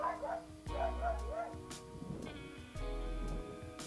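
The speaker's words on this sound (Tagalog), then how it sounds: "Maingay yung aso." A dog barks twice in short bursts, loud and close, with yips and whimpering between and some background noise.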